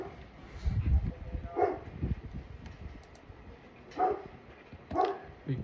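A big dog barks several times at uneven intervals, a little distant, over a low background of clicking and rustle, with no talk during the barks.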